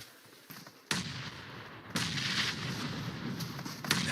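In a PUBG Mobile match, a thrown grenade goes off amid gunfire, with sharp, loud blasts and shots cutting in over a continuous roar of battle noise.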